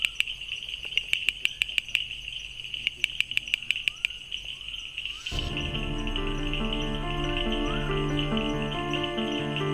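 Male bush frog calling in forest: a run of sharp, evenly spaced clicking pulses over steady insect buzz, then a denser layered chorus of tonal calls and hum takes over midway, moderately close.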